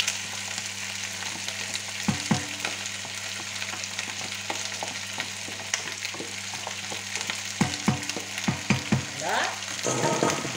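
Chopped onion sizzling steadily in a pan for a turkey osso buco, with a constant frying hiss and intermittent scraping and clinking as it is stirred, close and fairly quiet.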